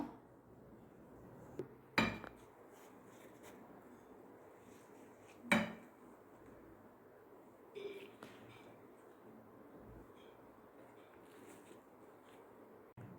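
Metal pots clink as steamed Kanchipuram kovil idli are lifted out of the steamer in a home kitchen: three sharp, fairly quiet clanks spaced a few seconds apart over a soft background hiss.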